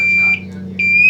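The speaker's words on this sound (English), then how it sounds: "I'm going to turn this carbon monoxide detector on." A carbon monoxide detector powering on lets out two close, piercing electronic beeps separated by a short pause over a low steady hum.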